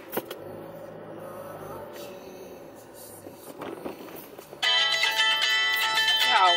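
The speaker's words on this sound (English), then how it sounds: "Gotta answer the phone." A phone rings near the end of a quiet indoor stretch, its loud electronic ringtone cutting in suddenly and repeating steadily after faint background tones and rustling.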